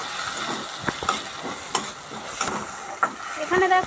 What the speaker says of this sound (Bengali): এখানে দেখো বন্ধুরা টমেটোটা আর পেঁয়াজটা ভাজা ভাজা হয়ে এসছে